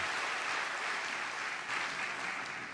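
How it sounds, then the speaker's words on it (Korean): A church congregation applauding during an autumn early-morning revival service, a soft, even patter of many hands clapping together, steady and somewhat distant. "박수를 크게 쳐서 감사합니다."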